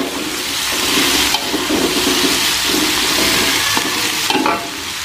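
Tempeh pieces dropped into a hot pan of fragrant spice paste for a spicy banana-blossom stir-fry, a loud continuous sizzle and hiss with repeated stirring scrapes, close up and with no talk.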